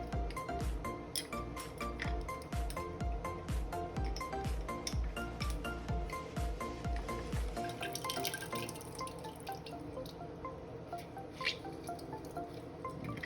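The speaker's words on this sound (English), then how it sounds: "we're going to squeeze some lemon juice in there." Lemon juice drips and trickles from a squeezed lemon into a pot for a vegan seafood boil, a rapid patter of close drips that thins out midway, over faint kitchen clatter.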